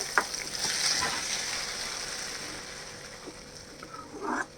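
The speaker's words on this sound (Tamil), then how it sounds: "பொரிஞ்சதுக்கப்புறம் நம்ம அரைச்சி வச்ச வெங்காயம், தக்காளி, பூண்டு விழுத அதில் ஊற்றிக்கலாம். ஊற்றுறப்ப மேலே தெளிக்கும்." Ground onion, tomato and garlic paste poured into hot oil for a fish curry, a broad hissing sizzle that swells then slowly settles, with a few spoon scrapes near the end.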